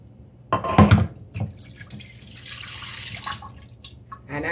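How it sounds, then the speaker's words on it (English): Coconut milk poured from a tin into a cooking pot for Jamaican coconut rice, a short splashing pour followed by lighter liquid trickles and drips, close and moderately loud. "I'm gonna pour it in the pot."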